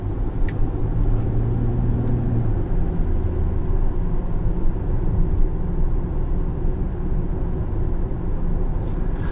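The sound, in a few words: 2017 Infiniti QX70 cruising, interior driving sound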